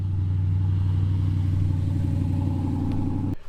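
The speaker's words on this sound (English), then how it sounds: "Damn kids and their loud muscle cars." A muscle car engine idles loudly nearby with a deep, steady, throbbing rumble, then cuts off abruptly at the end.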